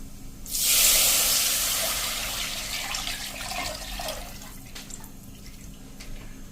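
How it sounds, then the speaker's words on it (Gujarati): Liquid batter is poured into hot oil seasoned with asafoetida, setting off a loud, sudden hissing sizzle that peaks quickly, then slowly fades into steady crackling and spitting. "હવે આપણે જે આ બેટર તૈયાર કર્યું છે એટલે કે લિક્વિડ એ આપણે આમાં નાખી દેશું"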